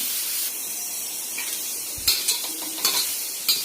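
Radish pieces dry-roasting on a griddle pan, a steady soft sizzle with a few sharper stirring scrapes and clinks near the end, close and moderately loud with no voices.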